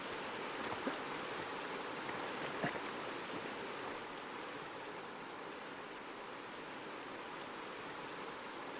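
A river flows steadily in the video game Uncharted 2 Among Thieves, a soft continuous watery hiss with faint clicks of in-game footsteps early on, fairly quiet and uniform throughout.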